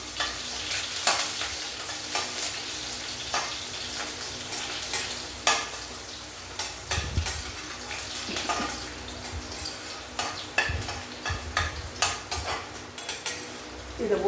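Garlic, green chilli and onion tossed into hot oil in a pan for a simple Kerala curry, frying with a soft sizzle under frequent spoon stirs and scrapes against the pan, no one talking.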